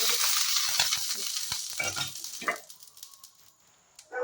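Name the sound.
ghee sizzling in a pan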